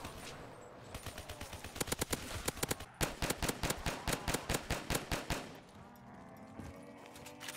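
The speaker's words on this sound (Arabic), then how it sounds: "اللي هي اني اطخ بدون لا نهاية" Rapid gunfire in a small zombies map of a shooter video game, bursts of sharp shots repeating steadily for several seconds, loud and close, with no talk over them.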